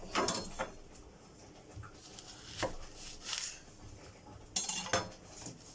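A peeled vegetable being cut in half lengthwise for beef bourguignon: a few sharp, brief knocks of the blade against the board, spaced apart and fairly close, with quiet kitchen clatter between them.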